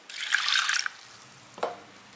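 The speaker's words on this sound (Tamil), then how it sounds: "இப்போ கொஞ்சம் தண்ணி விட்டுங்க." Water is poured into a pressure cooker holding soaked lentils, a short splashing gush lasting under a second, followed by a single faint drip.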